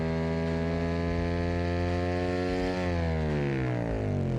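A high-revving video game car engine in BeamNG.drive drones steadily, then climbs in pitch toward 10,000 rpm, its tone rising sharply near the end, loud and continuous.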